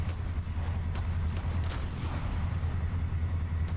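Main guns firing on a ship in the video game ShipCrafter, a steady rumbling barrage of heavy low booms with sharper cracks scattered throughout, continuous and loud with no speech.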